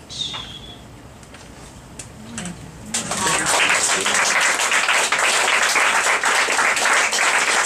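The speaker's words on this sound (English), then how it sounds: "Let's hear an applause for it." An audience at a poetry reading breaks into applause after a short pause with a few faint sounds, the clapping rising quickly into a steady, dense, sustained ovation that carries on to the end.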